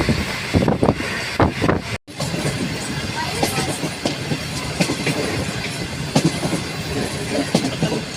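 A small train rolls past close by with rhythmic clickety-clack of wheels over rail joints and a steady rumbling roar, wind buffeting the microphone, and a voice briefly heard beneath the noise.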